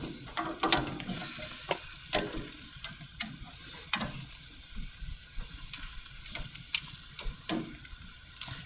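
Vegetables, including squash, sizzle steadily on a hot grill while metal tongs toss them, giving sharp intermittent clacks and scrapes over the continuous frying hiss.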